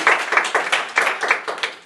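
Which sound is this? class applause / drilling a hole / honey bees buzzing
class applause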